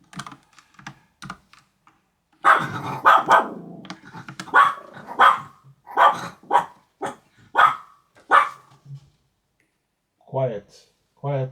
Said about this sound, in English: that was my dogs